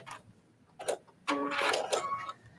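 A sewing machine runs a short back stitch on a refashioned T-shirt, with brief mechanical bursts and then a longer whirring run, fairly quiet and close.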